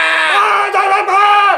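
A neighbour shouting in the street on a weekday afternoon, one long loud strained yell that wavers in pitch and breaks off briefly before carrying on, close and alone.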